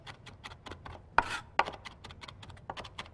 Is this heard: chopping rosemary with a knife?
yes